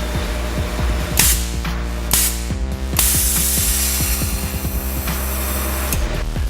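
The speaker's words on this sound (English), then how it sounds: "the valve opens and closes pretty much instantly, even at 30 psi boost" Repeated sharp hissing bursts from a GFB DV Plus diverter valve opening and closing under 30 psi turbo boost, punctuated by mechanical clicks over a constant engine-like hum.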